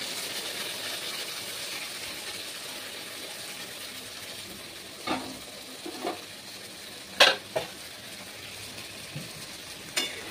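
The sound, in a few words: spice paste stirred into frying potatoes in a pan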